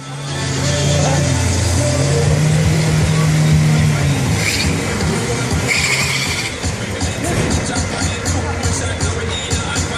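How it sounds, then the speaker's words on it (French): A monster truck engine roars loudly at a show, its clutch slipped hard to creep along slowly, with a sustained engine drone and squeal over crowd noise and a commentator talking throughout. "Il fait patiner au maximum l'embrayage pour essayer de rouler le plus lentement possible."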